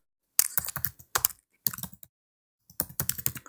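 Typing on a computer keyboard while editing an Instagram biography, with three bursts of rapid, close key clicks separated by short pauses.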